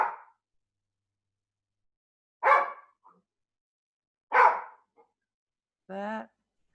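A dog barks indoors: three sharp, separate barks spaced about two seconds apart, then a short whining yelp at the end, with silence between them.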